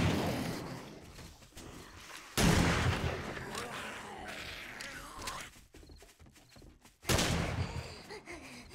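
Gunshots in the 7 Days to Die video game, two loud close blasts separated by several seconds, with rumbling, clattering game noise between them.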